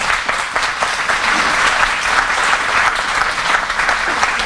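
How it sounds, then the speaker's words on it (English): Loud, close applause from the audience at a Bank of America Neighborhood Builder celebration, with rapid dense clapping that holds steady for several seconds. "One more round of applause for Jordan Hicks."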